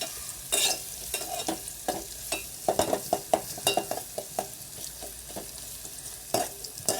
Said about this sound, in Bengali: ডালটা ঝাল পেঁয়াজ ভাজা হয়ে গেছে, বাগার দিয়ে দিলাম।